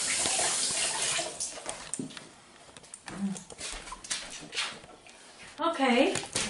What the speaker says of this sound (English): let me wash my hands because I touched that